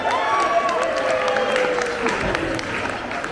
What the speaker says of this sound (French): Bravo, on peut s'applaudir les uns les autres.